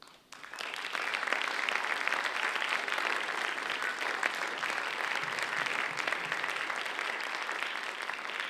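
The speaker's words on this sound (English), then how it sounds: "if we could give them a round of applause" An audience at a competition finalists' presentation breaks into a steady round of applause, starting after a brief quiet moment and holding dense and even to the end, with no talk over it.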